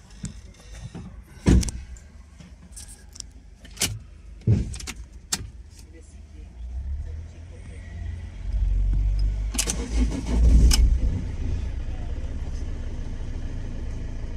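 Clicks and clunks inside a car, then a 1.6 HDi diesel engine with a fuel pressure regulator fault turns over and starts, settling into a steady low running rumble; brief voices are heard.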